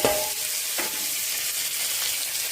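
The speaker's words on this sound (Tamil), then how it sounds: "புதினா, கொத்தமல்லி, பச்சை மிளகாய், பூண்டு, இஞ்சி, கசகசா, சோம்பு எல்லாத்தையும் எண்ணெயில் வதக்குங்க." Mint, coriander, green chili, garlic, ginger, poppy seed and fennel sauté in oil with a loud, close, continuous sizzle, a brief crackle at the start and a stir partway through.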